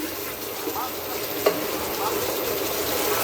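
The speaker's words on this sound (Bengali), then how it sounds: "দেখেন ঢাকনা তুলে আবারও একটু নেড়ে দিলাম।" A spicy goat head curry being stirred in a pot, with a soft, steady sizzle and a brief louder scrape or clank of the spoon partway through, heard up close without talk.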